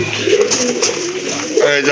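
Pigeons offered for sale coo in low, throaty rolls close by, running continuously beneath a voice talking over them.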